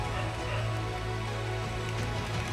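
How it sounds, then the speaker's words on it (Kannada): Heavy rain falls at night in a village, a steady dense hiss of drops on surfaces, loud and continuous with no talk. "ಮಳೆ ಜಾಸ್ತಿ ಆಯಿತು"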